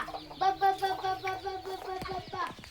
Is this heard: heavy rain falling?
no